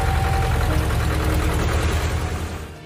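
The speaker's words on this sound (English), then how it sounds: "some very creative kids have traded in their skateboards for dirt bikes so they can still go out and have a little fun outdoors" Dirt bike engines ridden by kids outdoors, a steady loud motor drone with a low rumbling pulse that holds for most of the stretch and then fades at the end.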